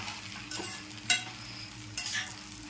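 A utensil stirs noodles in a pan, with soft scraping and a few brief clinks, and a faint sizzle underneath. There is no talk.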